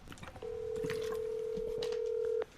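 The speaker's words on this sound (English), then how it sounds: "So we're getting Trev Lee from thedarkroom.com on the phone because he is involved with this." Over a telephone line, a single steady tone holds for about two seconds and then cuts off abruptly. Faint background sounds sit underneath it.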